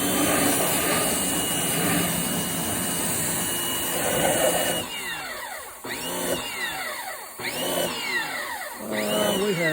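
A pressure washer sprays down a 1992 Ford Ranger, a loud, steady hissing roar near the mic that later turns uneven, with the motor surging and dipping in repeated rising and falling swells.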